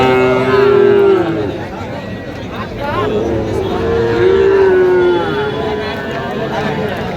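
A Sahiwal heifer calf at a busy cattle market in Bangladesh gives drawn-out moos, close and clear, with other cattle, crowd chatter and voices talking throughout.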